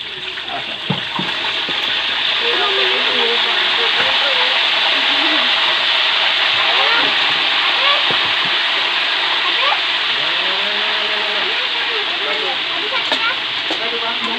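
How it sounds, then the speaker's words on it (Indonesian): Meat frying half-cooked in a pan for Aceh-style soy sauce meat, a loud, dense, continuous sizzle that holds steady throughout, with a voice talking faintly underneath. "sekarang guys, kita bakalan goreng semua dagingnya setengah matang"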